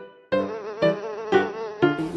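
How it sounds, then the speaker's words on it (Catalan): Close, high-pitched buzzing of a mosquito in a quiet room, a single insect whining in bursts that rise and fall four or five times as it moves near. "Ves aquí m'ha picat un mosquit."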